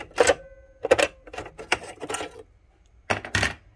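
Sharp metallic clicks and clacks of a sewing machine's stitch plate being pried and lifted off, a few quick bursts with short pauses between.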